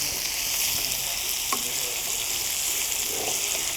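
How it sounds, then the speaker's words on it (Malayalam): Thinly sliced onions fry in oil left over from frying chicken for biryani, making a dense, even sizzle that stays loud and close. A single faint clink breaks in midway. "അപ്പോൾ നമ്മുടെ ഉള്ളി നല്ല പോലെ ഫ്രൈ ആയിട്ട് വരണം."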